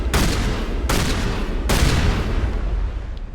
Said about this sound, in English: It's a little annoying, just because of the gunshots.